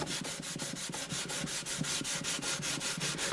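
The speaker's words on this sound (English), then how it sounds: "go up to about 800 grit. Okay, this is an 800 grit now" Steady back-and-forth rubbing of 800 grit sandpaper on a wooden guitar bridge, quick regular strokes with a soft hissing scratch, close and continuous with no talking.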